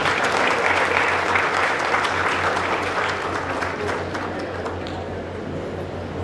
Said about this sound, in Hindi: अच्छा लगता है तो ताली बजा सकते हैं, कोई दिक्कत नहीं।